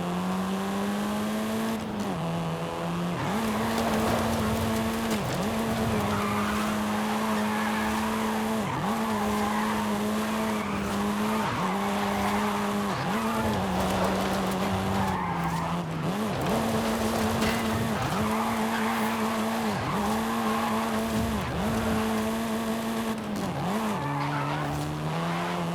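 A car in the video game Forza Horizon 5 set in Mexico, a steady droning engine with repeated tire screeches and skids as it slides through turns, continuous and close for the whole stretch.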